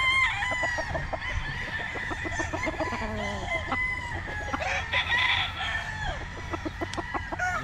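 Gamefowl roosters crowing at a game farm, several overlapping cock-a-doodle-doos near and farther off, with clucking and farmyard bustle throughout.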